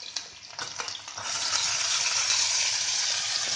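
Chopped onions frying in hot oil with garlic-ginger paste, cinnamon and cloves for a soya chunks curry, a loud steady sizzle that swells as stirring scrapes through the pan, with no talking.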